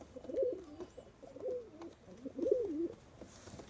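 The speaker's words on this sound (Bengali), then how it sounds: "একদম পরিষ্কার ফ্রেশ কালদুমা পায়রা" Kaldum pigeons cooing nearby, three soft rolling coos at roughly one-second intervals over faint background noise.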